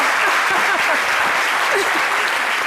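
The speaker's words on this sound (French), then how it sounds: "Merci d'applaudir la présentatrice télé, Vanessa." A television studio audience applauds a female TV presenter, steady dense clapping close and loud throughout with no talk over it.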